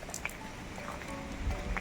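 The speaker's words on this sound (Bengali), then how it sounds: "হালকা হালকা ঝড় হচ্ছে বৃষ্টি পড়ছে" Light rain falls steadily on a village street during a mild storm, a soft, even hiss with a few scattered drip-like taps and low rumbling patches toward the end.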